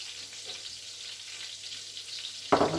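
Potatoes frying in a pan over medium heat give a steady, soft broadband sizzle throughout, with a louder burst of crackle near the end as they are turned or stirred.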